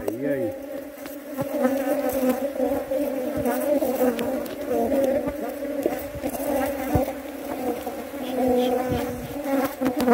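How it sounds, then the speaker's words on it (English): Many honeybees buzz loudly and continuously nearby during a honey harvest, a dense droning hum that swells and dips without pause. "those bees gonna sting my hands"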